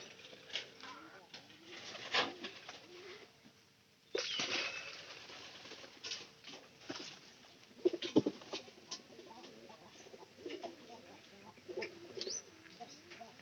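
Pigeons coo softly in short repeated phrases, with occasional wing flaps and chirps, while quiet voices are heard in the background.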